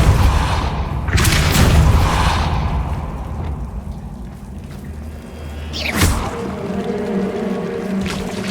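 Spell blasts from Depulso and Incendio in a Harry Potter video game, loud whooshing booms with a low rumbling tail, one burst early and another sharp blast later over a droning background.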